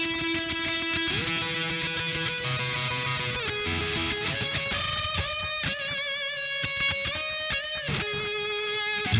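An electric guitar plays with expressive string bends. Sustained notes glide up and down in pitch over a continuous, steady riff, loud and close with no talking.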